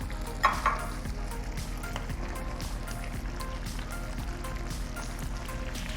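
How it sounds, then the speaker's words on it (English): Pottage with goat meat is stirred in a pot, giving a steady, soft bubbling sizzle with scraping movement throughout. Two brief clinks come near the start, and no voice is heard. "this is just to allow me space to stir the pottage"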